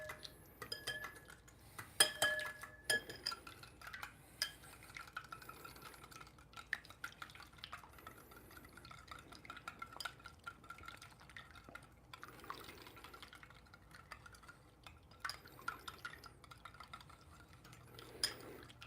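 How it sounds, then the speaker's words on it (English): Eggs whisked in a bowl in a prison setting, a quiet rhythmic clatter and scrape of utensil against dish running steadily, with occasional sharper clinks and a faint liquid slosh, no talking. "Whisking the eggs."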